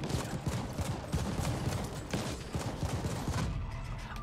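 Explosions and rapid gunfire from combat in the sci-fi action game The Ascent, a dense, continuous barrage of bursts and blasts filling the whole stretch at steady loudness.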